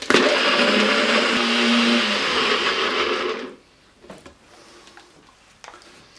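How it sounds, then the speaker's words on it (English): A NutriBullet blender whirs loudly for about three seconds as it purees cilantro sauce, then cuts off abruptly, leaving a few faint clicks and handling noises. "Then we're just going to mix this all up in our NutriBullet."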